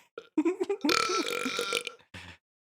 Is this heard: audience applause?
no